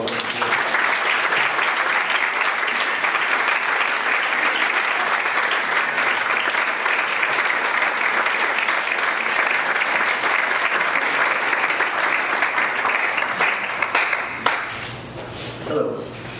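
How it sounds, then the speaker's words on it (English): Sustained, dense audience applause welcoming a poet to a reading, a roomful of hands clapping evenly for about fourteen seconds before tapering off, followed by a voice beginning to speak. "So, a round of applause and welcome."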